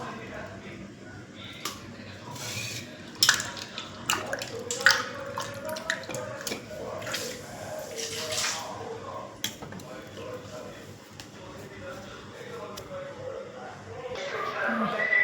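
Tap water runs steadily while fish, gutted with the gills removed, is washed by hand, with irregular splashes and drips over a continuous close rush and faint voices in the background.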